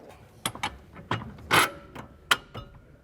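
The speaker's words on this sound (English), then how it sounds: "Let me get a floor jack in there so I can move the control arm around" A floor jack is pumped to raise the rear control arm of a Mercedes-Benz W166 ML-Class SUV during shock absorber replacement. Several clanking ratchet strokes and creaks come up close in an uneven rhythm.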